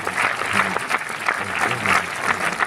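Audience in a screening hall applauds at a film presentation, steady dense clapping from many people with a faint voice underneath.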